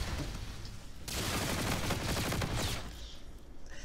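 Rapid hip-fired automatic gunfire in a Call of Duty game, Modern Warfare Remastered, a dense sustained burst lasting about two seconds, loud and close, with quieter game ambience before and after.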